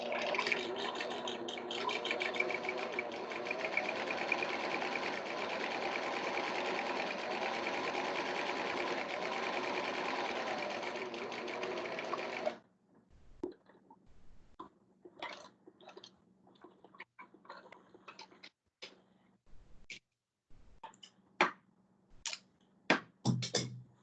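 A domestic sewing machine runs steadily for about twelve seconds, stitching a seam for a handmade fabric bag, then stops and gives way to scattered handling clicks and taps.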